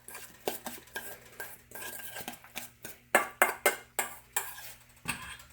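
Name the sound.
mixing red onions into avocado in a bowl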